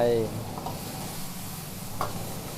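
Crispy pork stir-fries with vegetables and sauce in a hot pan, a soft steady sizzle with a brief voice at the start and a small scrape of stirring near the end.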